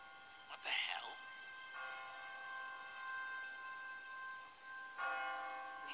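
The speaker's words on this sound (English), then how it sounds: "What kind of church bell goes off at 20 past the hour?" Automatic church bell ringing on a timer in a city in the video game The Walking Dead, sustained resonant tolls with two distinct strikes, moderately distant, with a brief voice early on.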